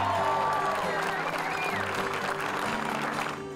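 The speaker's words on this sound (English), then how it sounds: "let's give them a huge round of applause" Crowd at an NBA Dallas Mavericks home game applauding, a dense wash of clapping and crowd noise under a faint voice, fading toward the end.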